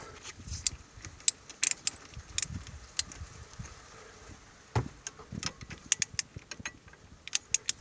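A lock nut being screwed onto Twingo 2 brake parts during a brake pad and disc change, heard as sparse, crisp little metallic clicks and ticks at close range against a quiet background.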